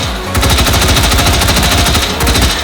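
An AR-15 rifle fires from a 150-round drum magazine in the VR shooting game H3VR, a loud, rapid, steady stream of shots close by, with no talking.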